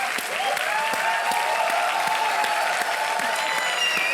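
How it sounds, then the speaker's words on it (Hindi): Studio audience applause on the KBC (Kaun Banega Crorepati) game show, a dense, steady wash of many hands clapping at full strength throughout, with a faint sustained tone running beneath. "रणदीप, तालियों के साथ हम आपका अभिनंदन करते हैं।"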